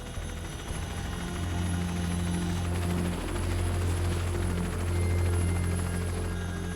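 Military helicopter in flight during a hoist operation, a steady loud rotor and engine drone with a low pulsing throb, continuous and close throughout with no speech.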